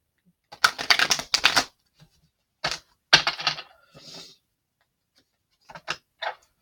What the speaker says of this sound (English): we're going to shuffle Divine Feminine's cards now